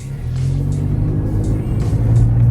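A Volkswagen MK4 Jetta with a loud exhaust pulls away, its engine a steady low rumble heard from inside, building gradually, with faint talk under it.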